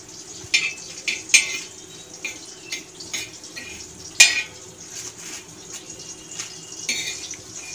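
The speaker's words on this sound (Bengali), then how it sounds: "গোটা ধনে আর গোটা জিরে। এগুলো সব আমি একসঙ্গে ভেজে নেব।" Whole coriander and cumin seeds are dry-roasted in a pan, giving intermittent light scrapes, rattles and metallic clinks as they are stirred, close and fairly quiet.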